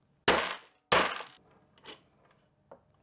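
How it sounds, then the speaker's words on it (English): A hammer striking a metal disc cutter in a workshop: two sharp, loud ringing blows close together, then a softer knock and a faint final tap. "and then just hit it with the hammer."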